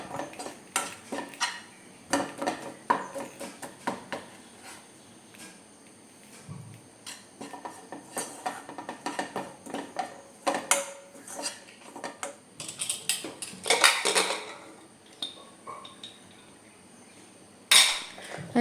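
Chili powder roasting in a pan for Kerala sambar is stirred with a metal spoon, giving repeated scraping clinks and clatters against the pan, uneven and close, with a sharper burst near the end and no talking.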